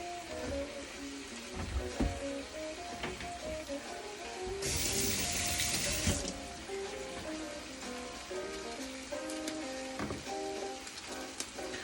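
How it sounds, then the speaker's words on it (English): Tap water runs over food being rinsed in a kitchen sink while pork chops are prepared, a steady splashing patter with a brief louder gush midway, close and unaccompanied by speech. "Always rinse out everything."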